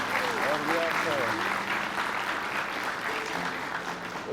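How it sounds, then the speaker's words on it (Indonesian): Applause from a studio audience on an Indonesian television talk show, a steady dense clatter of clapping that fills the whole stretch, with some voices heard over it near the start. "boleh tepuk tangan dong"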